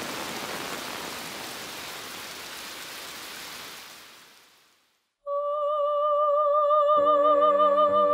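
Heavy rain pours down in a dense, even hiss that gradually fades to silence, after which sustained musical tones take over.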